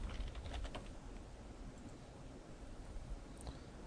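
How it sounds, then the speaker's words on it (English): Someone types a new password on a computer keyboard, with soft, quick key clicks over a steady background hiss. "And we'll type in a new password."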